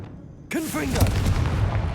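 A Confringo fire spell bursts in Hogwarts Legacy, a sudden loud blast at half a second followed by a sustained rumbling roar under a brief voiced shout.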